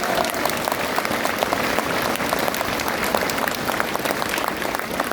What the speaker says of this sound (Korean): 광주 영령들께 감사의 박수를 부탁드립니다.